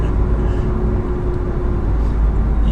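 A 2016 Mercedes-Benz S600 Maybach engine drones in a steady, loud, low rumble after a manual downshift, heard from inside the heavy sedan with no talking over it.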